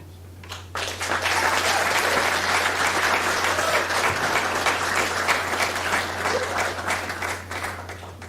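A medical school graduation audience applauds a graduate, a full, sustained ovation of many hands that swells in after a brief quiet start and holds steady at moderate loudness.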